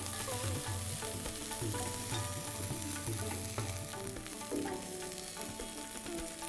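A pan of garlicky paste for veg dhansak, a Parsi dal, fries and sizzles steadily and loudly, with stirring scrapes throughout and no talking.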